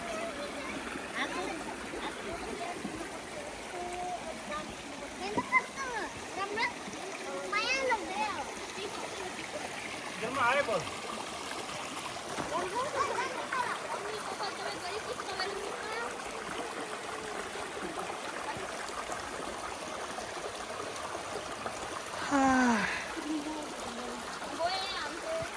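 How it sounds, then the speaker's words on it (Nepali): A small stream flows under a footbridge on a family walk, a soft continuous rush of water beneath people talking nearby. "सानो खोला रहेछ है"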